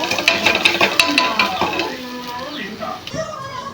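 Onions with ginger-garlic paste being stir-fried in a pan for a vegetable biryani, a close, steady sizzle with scraping stirring strokes that grows quieter toward the end.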